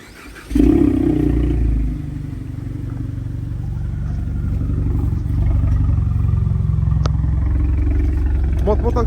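A Ford Mustang GT V8 starts with the key: a sharp crank catches into a loud, rumbling idle that settles and then holds steady and close, with a faint click heard partway through.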